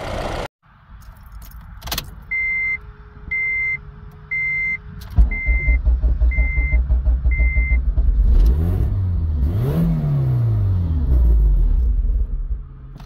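A Honda Civic FA5 Mugen Si, back together after a cracked engine block replacement, starts up on a test drive: a chime beeps several times before the engine catches, then rumbles and revs through gear changes with no talk over it.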